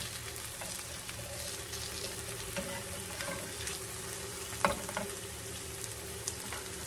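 Homemade hash browns fry in a pan with a constant, even sizzle close by, and one or two faint clicks break the steady crackle.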